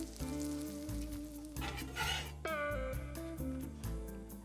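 Food sizzles and fries steadily in a hot pan on a home stove while cooking on one side for weekend brunch, a continuous close crackle with some clinks and shifting tones layered over it.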